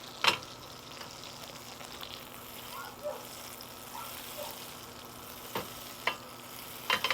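Freshly caught freshwater fish frying in a pan with Louisiana seasoning, a steady low sizzle with occasional sharper crackles and pops, while a person talks nearby.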